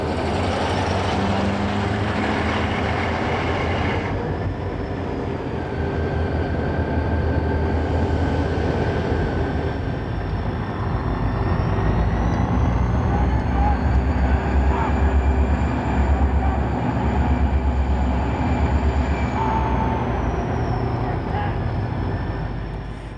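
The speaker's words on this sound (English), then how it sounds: "once again, there is a passenger train at each end of the main line" An Alaska Railroad passenger train rumbles steadily throughout, with a continuous low roar and a long whistle-like tone drifting through the middle, loud and sustained.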